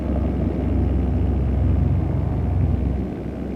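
A paramotor engine fitted with a new carburetor runs smoothly in flight, a steady close low rumbling drone that dips slightly near the end.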